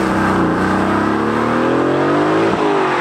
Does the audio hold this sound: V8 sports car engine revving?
yes